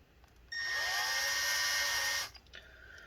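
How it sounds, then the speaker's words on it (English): A drill bit bores into a plastic divot holding a metal plate inside an Acer Aspire laptop, a single close, loud high-pitched whine lasting under two seconds between quiet handling noises. "We're just going to be drilling out every single one of these plastic divots that are holding this metal plate in place"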